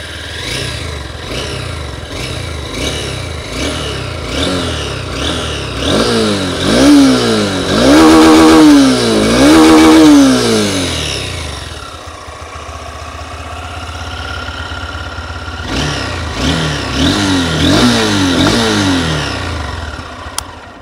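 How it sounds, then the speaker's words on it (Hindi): A Honda Hornet 2.0 motorcycle engine is revved repeatedly in short, close, loud bursts, its exhaust note climbing and falling in rhythmic blips before settling to idle and then revving again. "हल्का सा रेफ करते हैं इसको"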